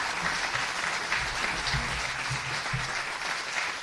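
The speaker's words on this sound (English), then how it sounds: "A round of applause for both candidates tonight." Audience applause at a mayoral debate, a steady wash of clapping from a crowd that holds even throughout without talk over it.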